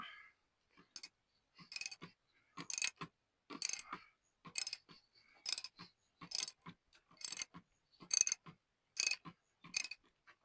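A 1.25 inch socket on a ratchet loosens the oil filter housing on a BMW B58 engine, giving repeated bursts of close, sharp mechanical clicking and ratcheting in a steady rhythm with short pauses.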